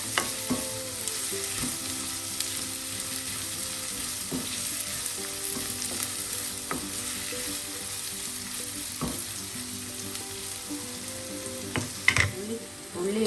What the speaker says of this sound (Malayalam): ഉള്ളി ചെറുതായി ഒന്ന് വഴണ്ടാൽ മതി.